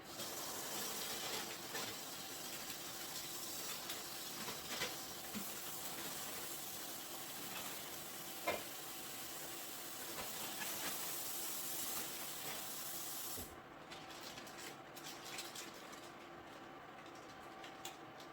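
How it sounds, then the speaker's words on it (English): Greens get a quick rinse under running water, a steady soft hiss that carries on for many seconds before the flow cuts off and quieter clatter follows. "I'm going to rinse them off very quickly"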